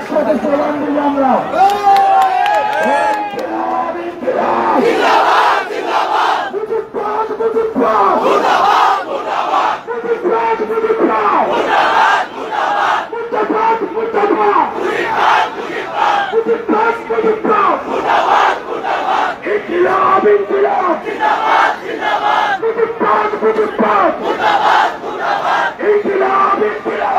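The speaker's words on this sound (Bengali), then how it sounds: "এই সময় একসাথে স্লোগান দিল আমরা" A large crowd on a political march in Gopalganj chants slogans in loud, rhythmic unison, with many voices shouting together close by throughout.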